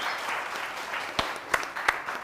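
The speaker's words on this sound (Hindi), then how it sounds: "आप लोग जरा इसके लिए, मासूमियत के लिए तालियां बजाइए, बजाइए बजाइए" Applause from a studio audience on a television morning show, a soft continuous patter of clapping punctuated by a few sharper, louder claps near the end, with no talking over it.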